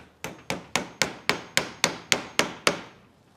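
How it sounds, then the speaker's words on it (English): A hammer drives a nail into a garage door's bottom weather stripping, ten sharp, evenly spaced blows about a quarter second apart, each a close, crisp knock with a short decay. "Drive the nail in."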